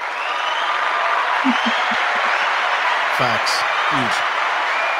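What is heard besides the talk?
audience applause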